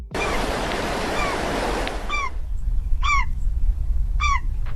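A bird calls three times in short, sharp, descending cries, each separated by about a second, after a burst of rushing surf-like noise fades away.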